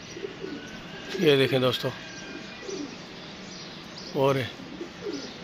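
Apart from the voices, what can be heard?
pigeons cooing and moving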